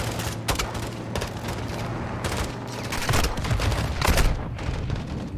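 Dense, continuous gunfire from the Call of Duty Modern Warfare 2 campaign, with rapid overlapping shots and heavy booms swelling louder near the end, loud and close throughout.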